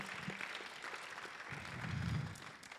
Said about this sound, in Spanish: big applause to the Lord